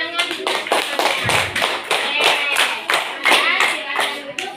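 Classmates in a classroom applauding, a close burst of rapid, uneven hand claps that continues steadily throughout.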